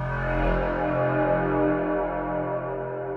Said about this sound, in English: what I'm calling my Blade Runner sound design patch